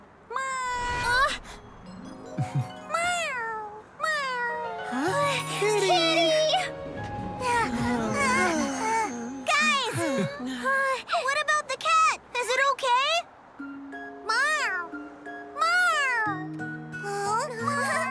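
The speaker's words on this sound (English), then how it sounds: "there's a cat ahead!" Cartoon cat meowing repeatedly in a children's animated bus episode, bright rising and falling meows over background music, with child-like voices talking in between.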